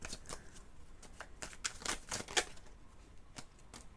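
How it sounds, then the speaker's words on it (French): Tarot cards being drawn and dropping onto a surface, a run of quiet, close papery flicks and light taps at an uneven rhythm, with no talking. "je vais essayer de mettre les mains devant pour que vous voyez quand même aussi les cartes tomber"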